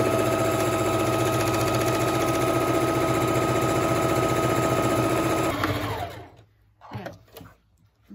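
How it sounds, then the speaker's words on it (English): A sewing machine stitches across the bottom of a fabric face mask, running in a steady fast whirring rhythm for about five seconds before slowing to a stop, followed by brief faint handling sounds. "we're going to go ahead and sew across the bottom of this just to lock that flap down"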